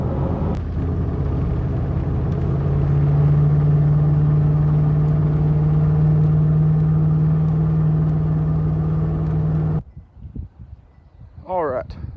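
A custom Ford F-150 truck with a V8 running rough, apparently misfiring, while driving. A loud, steady engine drone holds for about ten seconds, then cuts off abruptly, leaving quieter, uneven sounds.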